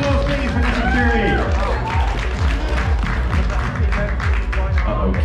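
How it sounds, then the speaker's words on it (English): Convention audience applauding a charity volunteer at an auction, sustained clapping from a crowd with cheering, music, and voices layered underneath. "Huge round of applause, please, for Jessica Jerry."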